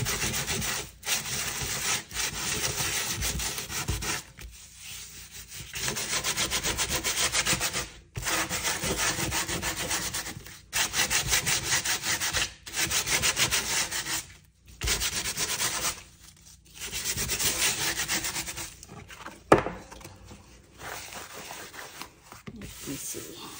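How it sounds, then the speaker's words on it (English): Sanding the rough edges of a handmade junk journal cover made from scraps: repeated close rasping strokes in steady runs, broken by short pauses between passes. "So we are going to sand this one because some edges are kind of rough."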